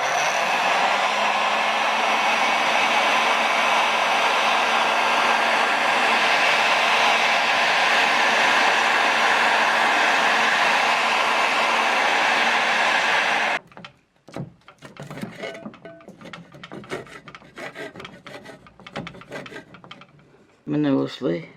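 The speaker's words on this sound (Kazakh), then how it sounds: "Мен қазір бір қолыммен фенді ұстап қыздырып тұрып, екінші қолыммен шпательмен қырып отыруым керек" Construction heat gun blowing a loud, steady hiss while heating paint on a wooden cabinet, then stopping abruptly and giving way to irregular scraping bursts of a spatula lifting the softened paint.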